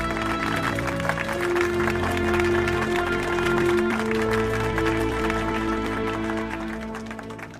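Audience applause from a crowd at a public gathering, a steady wash of clapping lasting several seconds and fading slightly toward the end, with tonal music or a drone running underneath.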